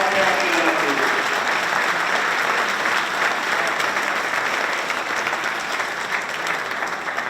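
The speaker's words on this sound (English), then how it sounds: "Let's have a nice round of applause for all our captain athletes." Sustained audience applause fills a room at a sports hall of fame induction dinner, steady and dense from start to finish, with a few voices briefly audible under the clapping at the opening.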